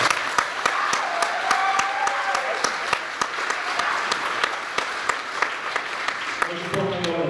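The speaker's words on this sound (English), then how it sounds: "Give them a round of applause." Audience at an independent wrestling show giving a round of applause, with loose sparse clapping and a few sharper individual claps across several seconds, while a voice on a microphone briefly speaks near the end.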